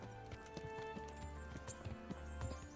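A horse trots in the medieval game Kingdom Come: Deliverance, its hooves clip-clopping in a quiet, steady rhythm under a continuous bed of game music and ambience.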